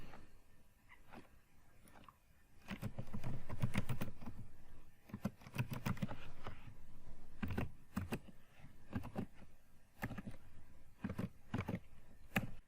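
Code being typed on a computer keyboard, irregular clusters of close, soft key clicks with short pauses between bursts over a low room hum, no voices.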